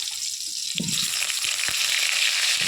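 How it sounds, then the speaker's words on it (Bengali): Steady hiss of potatoes frying in hot oil for chicken curry, continuous and close, with a few soft clinks of stirring. "সেই জন্য আলুগুলো আগে ভেজে নেব।"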